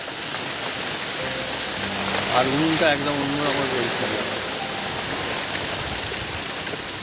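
Storm rain falling steadily, a dense even hiss that continues the whole time while a person speaks briefly over it.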